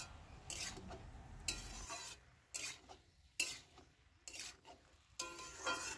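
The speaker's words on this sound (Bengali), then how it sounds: "আমি হাই ফ্লেমে এটা সব উপকরণের সাথে খুব ভালো করে ভেজে নেব।" Ridge gourd (dhundul) stir-fried on high flame, with faint, irregular scraping and rubbing strokes of a spatula against the pan, quiet and close, separated by short pauses, no talk.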